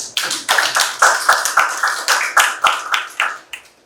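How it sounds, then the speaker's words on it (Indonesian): A classroom of students claps for a fellow student in a quick, evenly spaced rhythm, about a dozen crisp, fairly close claps in unison with no talking. "Tepuk tangan buat Marvin."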